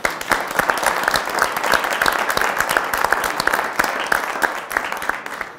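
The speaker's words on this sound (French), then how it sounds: "bravo, on vous applaudit" A studio audience claps at the end of a French televised debate on artificial intelligence, with dense, lively applause throughout and no talk over it.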